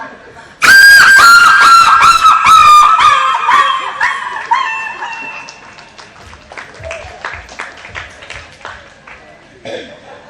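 A voice mimics a dog struck by a thrown stone, a loud burst of sharp yelps and whines that fade into weaker whimpers, with a brief cry at the end.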